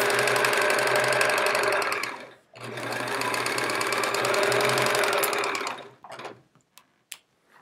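A sewing machine stitches the back of a Charming Chevrons quilt in two long steady runs separated by a brief pause, then stops and leaves a few scattered clicks and handling sounds.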